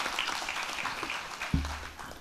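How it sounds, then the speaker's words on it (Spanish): Audience applause at the close of a two-day forum, a steady patter of clapping that carries on at moderate volume before a sharp low thump. "Pido un gran aplauso para Marco y a Juan Anción"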